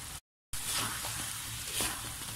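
Eggs sizzle as they fry in crab sambal in a pan, a continuous close crackling hiss broken by a brief silent gap near the start, with no talk.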